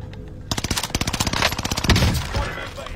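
Rapid automatic gunfire in a shooter video game, a loud close burst of repeated shots lasting over a second, followed by scattered impacts and a fading rumble.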